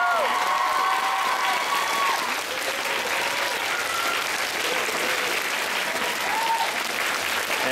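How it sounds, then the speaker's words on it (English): A convention panel audience at an anime event gives a big round of applause, dense sustained clapping filling the hall from start to finish, with faint voices mixed in. "let's give a big round of applause"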